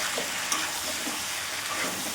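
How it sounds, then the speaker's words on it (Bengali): Spices for fish curry fry in a pan while being stirred, a soft sizzle broken by light scraping strokes of the spoon. "এই দিয়ে মশলা কষাচ্ছি"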